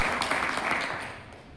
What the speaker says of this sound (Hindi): मैडम इन सभी महिलाओं के लिए जोरदार ताली बजा दीजिए